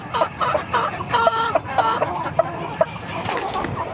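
Hens on a farm whose coop was raided by predators cluck in a busy, overlapping chatter of short repeated calls, moderately close, over outdoor background noise.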